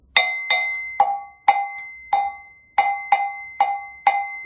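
A gahum bell is struck about ten times in an even, steady rhythm at a workshop. Each strike rings metallic and bright and fades before the next, loud and close, with no voices.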